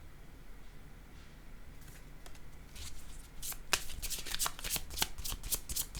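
Tarot cards are shuffled close by: faint handling at first, then rapid bursts of crisp riffling flutters over the last few seconds, with no speech.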